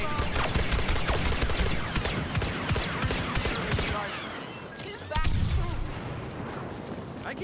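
Rapid blaster fire in a Star Wars Battlefront 2 Heroes vs Villains match, dense overlapping shots and booms going nonstop, loud and chaotic with a brief lull before another burst.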